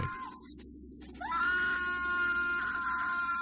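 A girl screams in a Japanese horror film, a loud sustained high-pitched shriek that swells after a brief quieter start and holds steadily to the end, with no talking.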